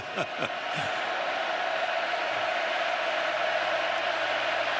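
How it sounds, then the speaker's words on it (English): Loud, sustained stadium crowd roar at an Alabama vs Texas A&M college football game, a dense wash of noise with a few brief bounces or slams early on. "This crowd doesn't stop."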